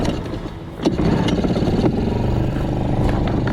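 A motor cranks once and catches, then settles into a loud, steady, rumbling idle close by, heard alone without talk.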